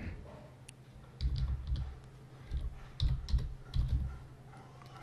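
Someone types a command on a computer keyboard, with quiet bursts of clustered key clicks separated by short pauses, close and dry in a quiet room.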